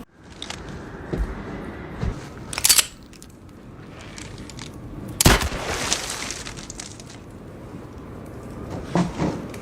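Stoker rifle firing in Helldivers 2, with a handful of sharp, loud reports spaced several seconds apart over a low, rumbling game backdrop, each shot followed by a short crunchy tail and scattered mechanical clatter.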